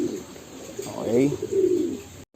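Pet birds in cages coo softly in a low, throaty, rolling call in the middle of the clip, close by, with a brief spoken word over the sound.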